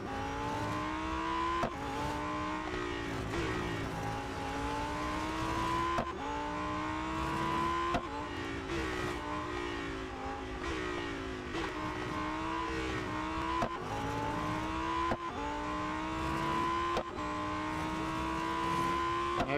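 A Lamborghini Huracan STO racing in the Real Racing 3 mobile game, its engine revving continuously and shifting up through gears in repeating rising sweeps, loud and close throughout.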